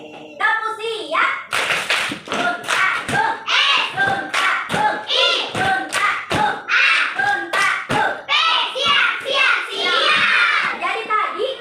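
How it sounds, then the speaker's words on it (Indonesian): Schoolchildren in an Indonesian primary classroom perform the tepuk siap clapping routine, chanting in unison between sharp, rhythmic hand claps that come in quick bursts and pauses, loud and close throughout. "Tepuk siap."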